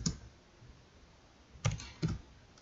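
A few keystrokes on a computer keyboard, a faint tap at the start and then two sharp clicks close together near the end, quiet room with no talking.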